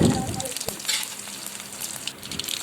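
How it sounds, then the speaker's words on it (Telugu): Tempering spices and curry leaves crackle and sizzle loudly in hot oil in a pan for tomato red chilli chutney, a dense steady frying hiss with sharp pops and a scrape of stirring. "స్టవ్ మీద ప్యాన్ పెట్టి కొంచెం ఆయిల్ వేసి వాటిలోకి పోపు దినుసులు కూడా యాడ్ చేద్దాం"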